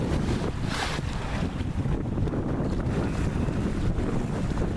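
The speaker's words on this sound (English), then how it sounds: "Wind's blowing at about 10 or 11 knots, sometimes gusting up to 15." Steady, loud wind at about 10 to 11 knots, gusting to 15, roaring across a sailboat, with broadband rushing noise and low buffeting that carries on throughout without pause.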